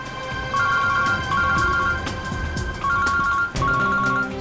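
A mobile phone plays a melodic electronic ringtone in repeating bursts, loud and close, as a call comes in from Shreya's mother. A low background bed runs underneath.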